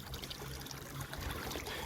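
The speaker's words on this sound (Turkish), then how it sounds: "Şimdi havuzumuzda bir adet hava taşımız mevcut ve bir adet de dış filtreye bağlı şelalemiz" Backyard pond waterfall fed by an external filter, water trickling and splashing in a steady dense stream, close and continuous with no talk.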